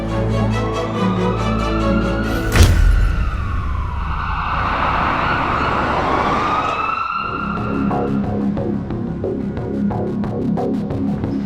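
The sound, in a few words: ambulance siren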